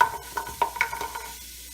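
Whole unpeeled garlic cloves drop into onions sizzling in a broth pot, giving a few soft clattering knocks and stirring scrapes over a steady low fry that fades quieter toward the end.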